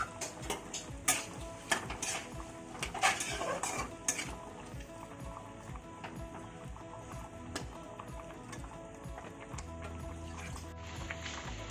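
Water added to gourd frying in a pan for an Assamese dish, a close sizzle with stirring and clinks of a utensil on the pan, busy at first and then settling into a steady, softer frying hiss.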